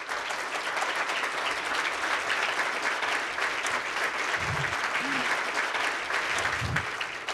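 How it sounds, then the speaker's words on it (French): A conference audience at the InterContinental Paris applauds steadily and evenly for several seconds, a dense, sustained clapping from a full room with a few faint low voices underneath near the end. "sous vos applaudissements"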